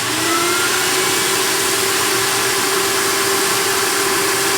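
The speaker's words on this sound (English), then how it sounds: "move the vacuum tube into place, and then start vacuuming" A record cleaning machine's vacuum draws fluid off a vinyl record with a loud, constant close-up roar and a faint steady whine, running unbroken throughout.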